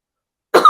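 A single sharp cough bursts out abruptly after near silence, close to the microphone and brief.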